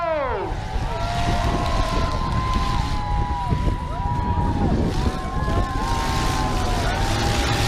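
The Grim Reaper monster truck at the Bournemouth Wheels 2015 show builds speed with a loud, steady engine roar, its rising and falling whines sweeping over constant rumble and wind.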